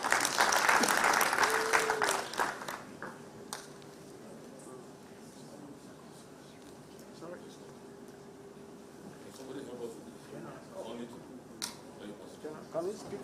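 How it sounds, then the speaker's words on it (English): Applause in a conference hall swells loudly for about two seconds and then fades, followed by quiet room tone with a faint hum, some scattered clicks and distant murmuring voices. "I would rather have a round of applause to encourage him, please."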